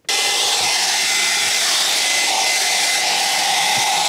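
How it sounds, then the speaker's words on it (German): A handheld hair dryer blows steadily and loudly at close range for about four seconds while warming the faucet fitting under a motorhome sink, starting and stopping abruptly with an even, breathy roar. "Da entwendet man den Föhn der Frau und erwärmt das Ganze ein bisschen, dann müsste das eigentlich reibungslos gehen"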